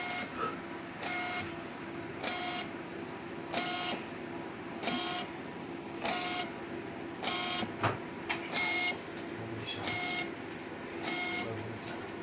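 An Axxair SAXX-200 orbital TIG welder prints a printout, giving a regular series of short, bright electronic pulses, about ten evenly spaced bursts over a steady mechanical hum, fairly close with no talk.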